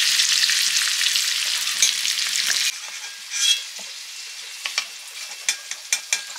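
Potatoes for a chicken meat curry frying in oil in a pan, a loud steady sizzle that drops quieter midway, with occasional stirring scrapes and clicks.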